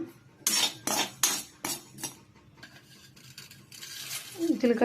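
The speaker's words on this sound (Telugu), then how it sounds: "ముందుగా స్టవ్ ఆన్ చేసి కడాయి పెట్టుకొని జీలకర్ర వేసి వేయించుకోవాలండి" Cumin seeds dry-roasted in a kadai on the stove, stirred with a metal spoon: several sharp, close scrapes and clinks come in quick succession, then quieter rustling, and a final scrape at the end.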